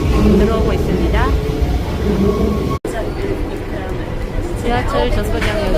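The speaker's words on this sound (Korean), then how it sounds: "우리가 탈 지하철이 들어오고 있습니다." A Paris Metro Line 13 train rolls into a station with a loud rumble and squealing brakes, while people chatter nearby over the noise.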